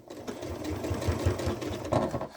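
A sewing machine back stitches through strap webbing on a DIY gardening bucket caddy, a close, steady mechanical whir with rapid needle pulses running throughout.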